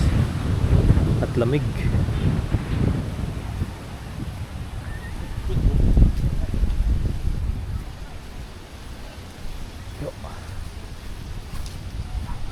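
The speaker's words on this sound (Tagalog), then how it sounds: "Sobrang lakas ng hangin guys." Strong wind buffets the microphone in heavy gusts at a camping site in Taal, Batangas, with a voice speaking briefly under the roar.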